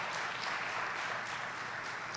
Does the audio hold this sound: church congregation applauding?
yes